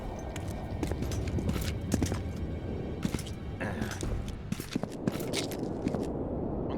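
Roach, Geralt's horse in The Witcher 2: Enhanced Edition, hooves clopping steadily and busily in a dense stream of strikes, with scraping and clattering over a loud, constant background.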